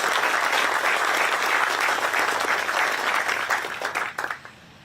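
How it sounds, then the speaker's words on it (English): Sustained audience applause at a University of Arkansas System event announcing a waterfowl research center, dense and steady before thinning out and fading in the final second. "Let's give them a round of applause"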